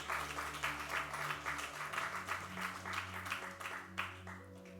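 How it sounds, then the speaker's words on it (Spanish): A church congregation claps in praise during a Spanish-language sermon, steady applause running under a low hum throughout with no speech on top. "¿Cuántos le dan un aplauso al Señor, hermanos?"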